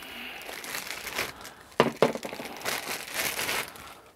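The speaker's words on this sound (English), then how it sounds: "Rip these open." Plastic packaging around the twist adjustment knobs for a Worx WG855 40V brushless cordless scarifier being torn open, a close burst of crinkling and sharp rips in the middle, with softer rustling before and after.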